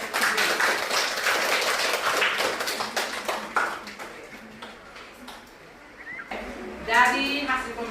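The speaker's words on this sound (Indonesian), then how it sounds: "Jadi kita berikan aplaus untuk diri kita sendiri" A class applauds itself together, with dense, close clapping for several seconds that fades out, followed by a voice speaking in the room.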